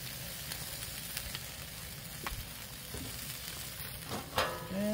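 Tofu sizzles and fries on a griddle, a soft, steady crackle with no pauses and a few faint clinks of utensils near the end.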